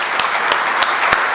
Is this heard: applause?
yes